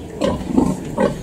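Pigs grunt in a pen at a Danish pig farm with heavily pregnant sows, giving three short, close, low grunts spread across about a second with no talk.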